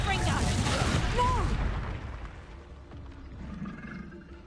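In the Hogwarts Legacy video game, a Confringo fire blast spell goes off as a loud, booming burst with a whooshing roar, then fades into a quieter rumble. A voice is heard under the blast.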